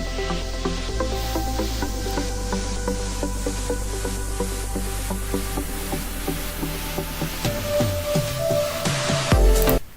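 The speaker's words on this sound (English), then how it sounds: "see if you can hear some whooshes and whoosh, like ups and downs and little rises, beeps, and so you can hear some chimes in the background" Layered electronic production effects: airy noise whooshes and rising sweeps over a steady low synth bed, with scattered beeps and chime-like tones drifting in the background, building to a louder swell near the end before cutting off.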